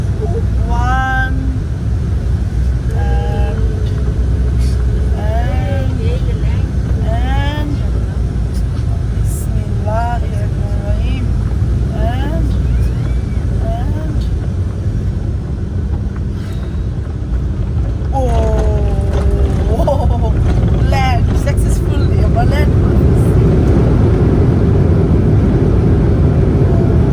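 A passenger airplane landing on a runway in Nepal, a loud continuous roar of engines and rolling wheels that builds toward the end, with a person talking over it at intervals.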